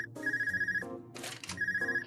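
A phone rings in the video game The Legend of Heroes: Trails of Cold Steel 2, sounding as a steady electronic tone in two repeated bursts over game music, alone with no talk.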